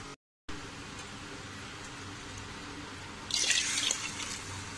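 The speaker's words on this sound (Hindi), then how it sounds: "ये 2 ग्लास पानी मैंने ऐड कर दिया इसमें।" Water is poured into spiced masala rice for an egg and potato biryani in a pressure cooker, giving a short burst of splashing and trickling against a faint kitchen background.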